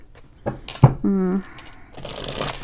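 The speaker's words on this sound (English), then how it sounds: "I don't know why I keep wanting to shuffle." A deck of tarot cards is handled and shuffled, giving a few soft flicks and a brief riffling burst up close, followed by papery rustle, with a voice speaking faintly.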